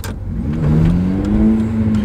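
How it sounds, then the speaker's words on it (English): Honda Civic Type R FN2 fitted with a budget induction kit revs hard from close range, its intake note rising in pitch into a loud, sustained howl. "That induction noise is a hell of a lot louder."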